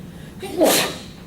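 A single sharp sneeze bursts out partway through a lecture, brief and fairly close, with room tone around it.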